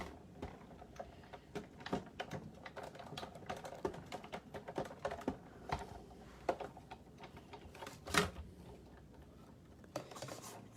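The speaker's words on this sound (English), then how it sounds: "I'm going to set it down on tab 1 of my embossing machine" A hand-cranked embossing machine runs a sunflower die and blue embossing pad through, giving off irregular clicks, ratchets and knocks at close range, with one louder clunk near the end.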